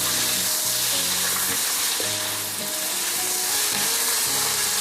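Pork belly (liempo) frying in a pan, a loud, continuous oil sizzle with faint stirring and scraping mixed in throughout.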